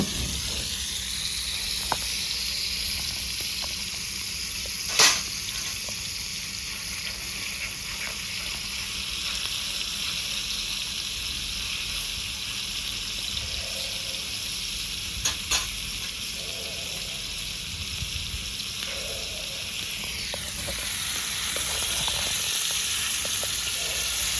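Pieces of chicken tikka sizzle and fry in a hot pan with a steady, continuous crackle, broken now and then by a few sharp clicks as the pieces are turned with tongs.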